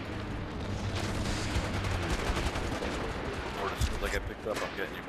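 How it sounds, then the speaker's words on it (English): Dense, continuous gunfire from the online shooter game MAG during a massive clan battle, rapid overlapping bursts and booms filling the whole stretch, with players talking over the din. "We're just like shooting through the smoke"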